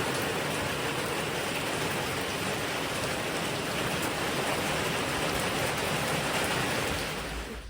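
Steady rain falls through the night in rural Thailand, a dense, even hiss of drops on surfaces that stays close and constant before easing slightly at the end, with no voices.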